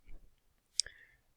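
A single crisp computer mouse click sounds close and quiet amid near silence, with a faint low rustle just before it.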